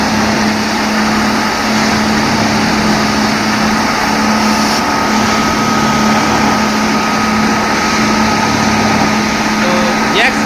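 A railway track-levelling machine with a large jack system runs nearby on the line between Vijapur and Ambaliyasan, giving a loud, continuous engine drone with a steady whine and clatter that never lets up.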